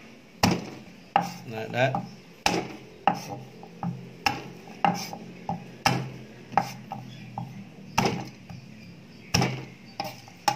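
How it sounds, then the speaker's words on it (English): Garlic cloves smashed with a blade on a cutting board while cooking Chinese braised pork belly, a string of sharp, distinct thwacks at an uneven pace, close and fairly loud, with a brief spoken remark. "Okay, next, garlic. Just smash them"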